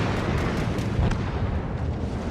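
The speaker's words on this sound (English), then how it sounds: "might as well just get his guns firing one last time" Warship naval guns in World of Warships blast together in a dense, continuous barrage of booms, loud and rumbling throughout with no pauses or speech.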